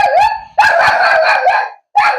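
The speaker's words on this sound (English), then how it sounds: "The dog started barking." A dog barks and howls loudly and close, in three drawn-out bursts separated by short pauses.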